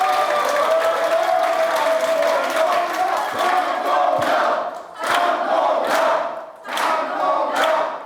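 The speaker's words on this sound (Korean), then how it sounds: "정말 감사도 큰 박수 한번 보내주십시오." A large crowd at a People Power Party rally in Daegu applauds and cheers loudly, with chanted shouts rising in rhythmic bursts over continuous clapping.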